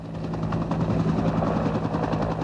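A medevac helicopter flying close and loud, its rotor chop beating in a steady rapid rhythm over a constant engine drone, with no voices.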